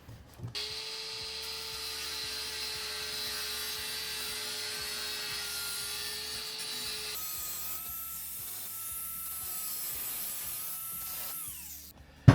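An angle grinder cuts steel mesh on a garden vegetable pest protection frame, giving a steady high whine with a rasping edge that runs unbroken for about eleven seconds, then the pitch shifts partway through as the cut changes.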